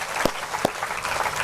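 An audience claps at a devotional religious gathering, a short burst of applause with two sharp louder claps standing out from the steady patter.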